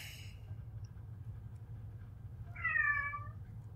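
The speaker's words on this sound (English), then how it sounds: "I don't know what he's meowing about." One short meow from a house cat rises late in a quiet stretch, fairly faint, with a low rumbling background throughout.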